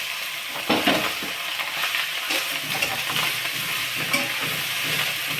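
Chavali bhaji (cowpea leaf vegetable) frying with chili and salt in a pan, stirred with steady scraping and sizzling strokes up close, a few sharper scrapes standing out, no voices.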